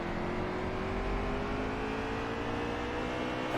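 Race car engine in the NASCAR Heat 3 video game at Martinsville, a steady high-revving drone with a rising whine held close and loud throughout, with no voices.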